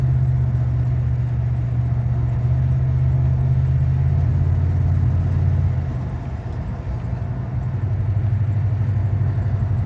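Dr. Thunder truck driving gently on a test run after a U-joint repair, a steady mid-pitched engine drone with some clatter that eases slightly partway through, close and continuous with no talking.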